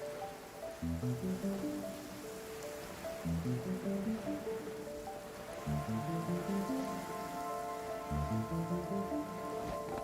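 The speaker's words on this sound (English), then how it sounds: "Quite a downpour." Heavy rain pours down steadily in the video game Genshin Impact, a dense, continuous hiss of drops. Soft, rhythmic background music plays beneath the downpour, and no one speaks.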